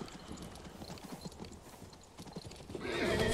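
A horse unit in the video game King's Bounty II clip-clops and whinnies, quick hoof beats giving way to a louder neigh with faint mechanical clinks underneath.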